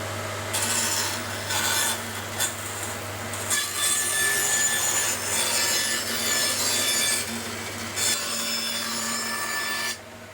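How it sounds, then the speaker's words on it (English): A bandsaw rips tongues off oak flooring scraps, a loud sustained rasping cut over the machine's steady motor hum, with brief pauses between passes. "So I think first is rip some more tongues off on the bandsaw"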